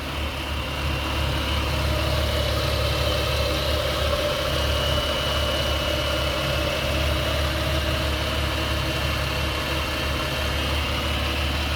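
A Ford FG car engine idles on its first start after a head gasket repair, a loud, close, even hum that holds steady and smooth throughout.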